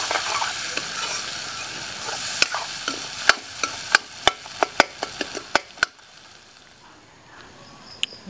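Tomatoes are stirred into a crab dish in a sizzling pan: a spoon scrapes and clacks against the pan in a quick run of sharp knocks over a steady frying hiss, then the stirring stops.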